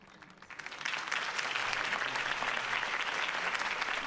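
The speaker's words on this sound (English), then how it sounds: "If only Mr. Wayne, my campaign's largest backer, could have heard that applause" Rally crowd in Batman: The Telltale Series breaks into applause for Harvey Dent's campaign speech, swelling quickly from quiet into a dense, sustained wash of clapping that stays loud and even throughout.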